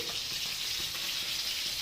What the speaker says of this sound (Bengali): আর মাছ ভাজাও হয়ে এসছে আর একটুখানি বাকি